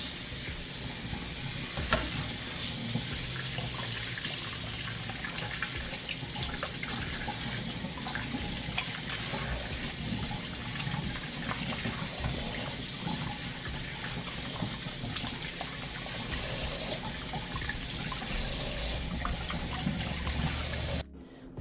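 Tap water runs steadily into a sink while tomatoes are washed for Michoacán-style chilaquiles, a continuous close splashing rush with faint handling sounds, stopping abruptly at the very end.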